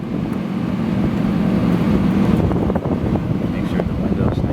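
A vintage Fedders window air conditioner's slightly off-balance motor runs with a steady low rumble and whooshing airflow, fairly loud and continuous with uneven fluttering.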